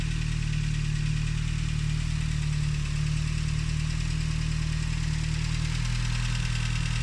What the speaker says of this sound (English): let's move over to the engine compartment and listen to it at idle.